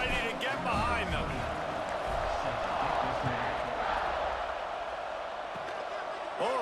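A crowd in an American football video game cheering at kickoff, a broad steady roar of stadium noise that stays loud throughout while a commentator talks over it.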